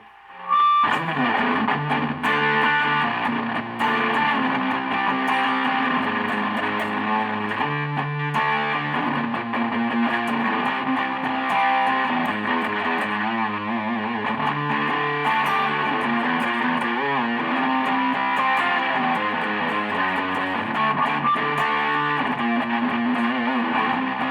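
A heavily distorted electric guitar on the bridge humbucker, through a Wampler Belle into a JHS Packrat distortion pedal, plays a continuous riff with thick, saturated tone and long sustain, loud and steady throughout.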